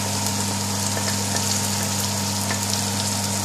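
Chopped onions frying in hot oil for a chicken and potato curry, a dense steady sizzle with a constant electrical hum underneath, close and loud throughout with no talking.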